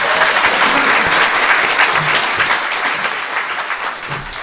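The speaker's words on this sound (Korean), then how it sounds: "박수 부탁드립니다" A studio audience at a Korean talk show breaks into loud, dense applause right away, a sustained clapping that tapers slightly toward the end, with no voices over it.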